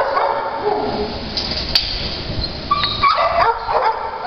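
Australian Shepherd mix dog giving short yips and whimpering whines amid room noise, moderately close, with no talk over it.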